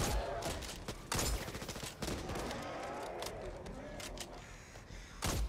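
Gunfire in the video game Back 4 Blood, a rapid fusillade of sharp repeated shots with bursts and pauses, loud and close over a busy game soundscape.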